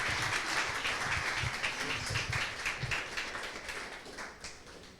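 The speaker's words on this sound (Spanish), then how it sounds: "quien quiera darle un aplauso, yo no he dejado de aplaudirle al Señor." A church congregation claps together at a Sunday sermon, a dense, steady patter of many hands that carries on throughout and eases off slightly toward the end, with no talk over it.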